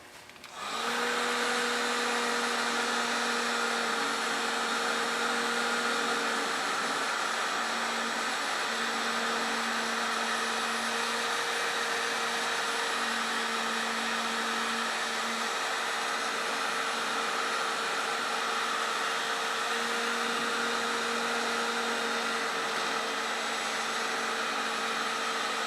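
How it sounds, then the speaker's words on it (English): Heat gun blowing hot air onto the plastic rear bumper cover of a Toyota Prius under repair, a loud steady whooshing roar with a constant whine, running unbroken from start to finish with no talk. "Yeah, I need to heat that one part pretty good there"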